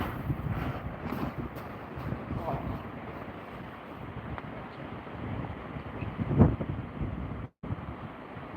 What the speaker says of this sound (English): We've got a bit of wind coming straight into the bivvy.